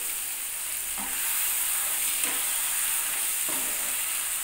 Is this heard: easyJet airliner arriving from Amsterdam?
no